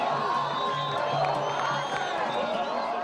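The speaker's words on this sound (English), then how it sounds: "the crowds are shouting and screaming." A large crowd in Cairo, Egypt shouts and cheers in a dense, continuous roar of many voices, with rhythmic chanting and scattered whoops heard at a distance.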